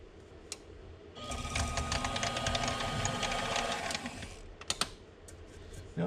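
A mini lathe runs a tap into a workpiece with cutting fluid, a steady close mechanical whir lasting about three seconds with faint clicks before and after.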